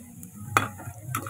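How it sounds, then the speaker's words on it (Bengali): Onion frying in a pan for homemade hair oil makes a soft sizzle, and two sharp stirring scrapes cut through it in quick succession. "পেঁয়াজটাকে সুন্দর করে লাল লাল করে ভেজে নেবো আমি।"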